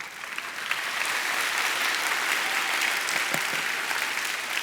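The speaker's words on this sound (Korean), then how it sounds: "박수 치려면 다 치고" An afternoon church service audience claps together, a steady, moderately loud wash of applause that builds quickly and holds evenly for several seconds.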